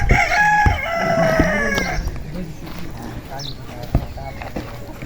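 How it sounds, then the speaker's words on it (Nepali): A rooster crows loudly and close by in the first two seconds, followed by softer hen clucking and farmyard background noise, in an outdoor rural setting with a voice talking over part of it. "यहाँ कुखुरालाई पनि मैले भेटिसकेको छु"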